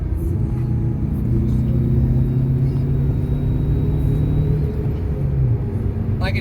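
A turbocharged Toyota Corolla accelerating with boost at half throttle, a steady loud engine drone with a rising whine, heard from inside the car, continuous for the whole stretch.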